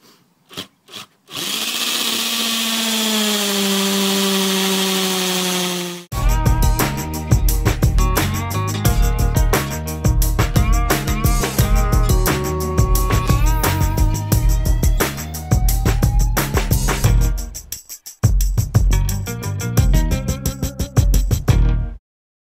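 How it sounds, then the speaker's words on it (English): A power drill runs in a long steady whine, then grinds and chatters through hard masonry in bursts, loud and close, with brief pauses. "and then just drill my hole straight into there."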